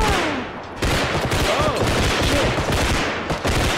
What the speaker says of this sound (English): range on the shotguns is impressive.